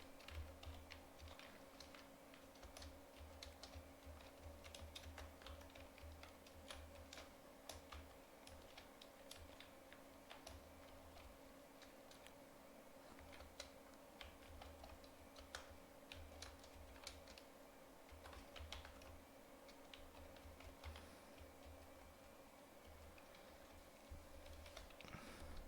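Computer keyboard typing while writing sample code for a LeetCode problem, a quiet continuous patter of keystrokes at a steady pace over a low electrical hum, no speech.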